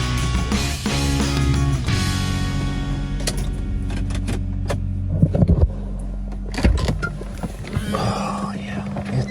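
Steady low rumble of road traffic heard from inside a van parked by the ocean in Langford, with scattered clicks and knocks nearby and a couple of louder thumps.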